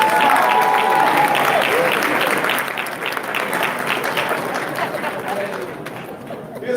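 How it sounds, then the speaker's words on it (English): Sustained audience applause at an awards event honoring men of excellence, a dense steady clapping from a large crowd that fills the whole stretch and fades slightly toward the end. "Give them a round of applause."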